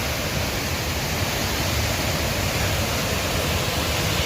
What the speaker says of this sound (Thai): นี่น้ำตกเก้าขันครับ อยูตรงนี้เป็นน้ำตกชั้นหนึ่งครับ